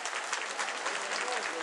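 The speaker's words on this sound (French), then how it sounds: "Allez, on les applaudit, s'il vous plaît." An audience at a line dance show claps steadily, a dense burst of applause that carries on evenly throughout.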